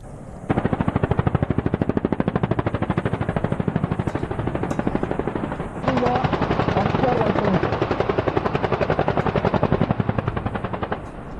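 Attack helicopter rotors thump steadily while rapid 20 mm cannon fire rattles continuously, loud and sustained throughout, during a military exercise.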